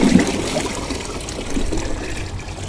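Water poured out for live tilapia bait on a snook fishing trip, a steady close splashing trickle and gush running without pause.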